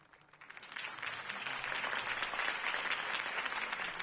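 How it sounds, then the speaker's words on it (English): A video game crowd applauds in Telltale's Batman, clapping swelling quickly from a quiet start into steady, sustained applause. "could have heard that applause"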